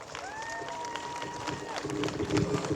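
An outdoor crowd applauds a singer at a village festival, clapping and cheering that swells louder toward the end beneath a held tone.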